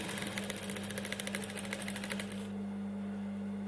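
A sewing machine runs a short burst stitching a small hem on a hijab, a fast even needle rhythm heard up close before it stops, leaving a steady low motor hum.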